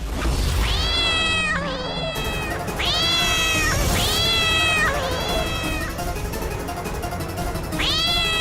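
Several cats meowing repeatedly, loud and close, long wavering meows overlapping one after another with a short break, in a drama scene.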